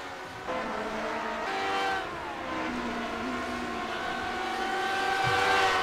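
Vintage Grand Prix race cars from Grand Prix Legends rushing past on the back straight at Watkins Glen, a steady layered engine drone with several pitches shifting as the pack goes by, fairly loud throughout.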